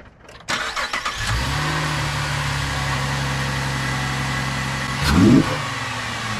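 A car engine fitted with a new cheap aftermarket air intake filter starts and settles into a steady, loud idle, then gives one brief rev near the end before dropping back to idle.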